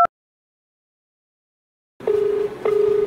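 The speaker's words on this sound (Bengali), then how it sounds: "রিং হচ্ছে।" Telephone ringback tone during a prank call, two steady electronic tone bursts heard after a silence, clear and close, with no talk over them.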